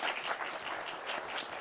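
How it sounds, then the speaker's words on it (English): Brief, faint applause from an audience welcoming a panel at a leadership briefing, a soft patter of clapping lasting under two seconds. "Please join me in welcoming them with a little bit of applause."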